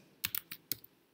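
Several quick key clicks on a computer keyboard while a parameter value is entered in LTSpice, four or five close, crisp taps in a short burst with no talking.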